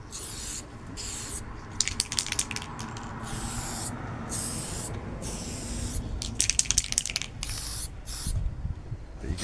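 Short bursts of red spray paint hissing from an aerosol can onto a 3D-printed RC vehicle part, several close spurts of varying length separated by brief pauses, with no speech.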